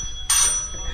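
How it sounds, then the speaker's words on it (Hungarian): A modern doorbell in a new apartment rings once with an abrupt bright electronic chime that rings on and slowly fades. It sits over quiet room background. "Már működik a csengő."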